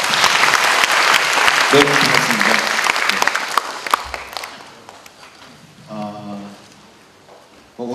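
An audience at a university admissions event bursts into loud applause to welcome a speaker, clapping for about four seconds before it fades out and a voice gives a short greeting.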